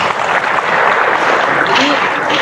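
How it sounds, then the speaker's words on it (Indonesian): Audience applause for Pasuruan at the opening of a small-industry entrepreneur training event, a steady dense clapping wash that holds loud for a couple of seconds. "Tepuk tangan dulu ya untuk Pasuruan."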